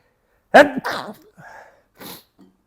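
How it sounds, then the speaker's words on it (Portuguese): A single sharp sneeze up close, followed by a few quieter breathy sounds and small mouth noises. "Vou espirrar."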